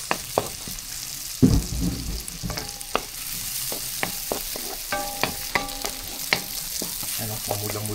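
Chopped onion sautéing in three cubes of melted butter with garlic in a home cook's pan for chop suey, a steady sizzle broken by repeated utensil scrapes and clinks as it is stirred.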